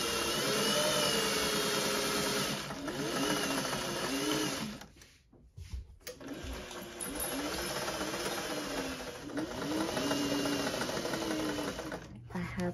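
A sewing machine runs loud and close as it stitches the zigzag-edged front and back pieces and princess seams of a dress together, a steady whirring drone that stops briefly in the middle before starting up again.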